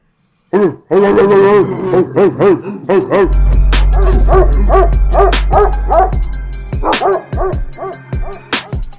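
Several dogs bark loudly and close, in rapid overlapping bursts with yips and whines, a busy irregular chorus that keeps going over a low droning rumble.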